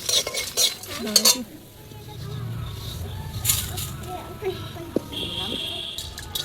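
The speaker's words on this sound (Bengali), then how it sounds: "জিরে দিয়ে দিচ্ছি সব একসাথে এরকম শুকনো খোলায় ভেজে নিতে হবে" Cumin and whole spices dry-roast in a hot, oil-free pan while a spatula stirs and scrapes, with a few metallic clanks early on. A person talks over the quiet rustling and faint crackle.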